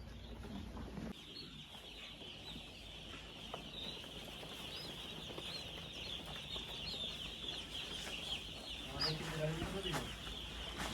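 A crowd of chicks being unloaded into a temperature-controlled poultry shed chirps as a dense, continuous high cheeping throughout, with a faint background hum.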